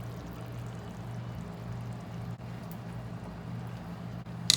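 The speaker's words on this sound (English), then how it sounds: "So the rice is starting to boil, so we are going to cover it." Rice boiling in a pot on the stove, a steady low bubbling rumble and hiss that holds evenly throughout with no talking.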